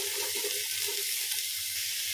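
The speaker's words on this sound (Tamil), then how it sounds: "இந்த புதினாவை போட்டு வதக்கிக்கிறேங்க" Mint, green chilli and onion sauté in hot oil for prawn biryani, giving a continuous close sizzle with faint stirring underneath.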